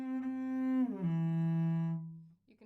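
A cello holds a low note and then slides audibly downward to a lower pitch in one smooth portamento shift, sustaining the new note before it fades, played solo and close, with a faint noise at the very end.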